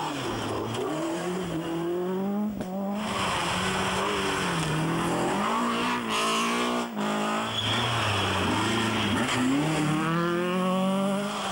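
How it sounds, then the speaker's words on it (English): Front-wheel drive rally cars slide sideways through a bend at the Scottish Rally, engines screaming and revving up and down in long, loud, rising and falling tones with tyre scrabble, one car after another passing close. "It's hard to believe that all these are front-wheel drive cars, so sideways are the drivers getting them."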